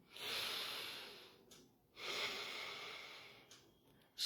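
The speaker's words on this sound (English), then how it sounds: "you need to practice the deep breath" Slow, deep breaths, each a long airy inhale or exhale of about a second and a half, separated by short quiet gaps, close to the microphone and with no talking.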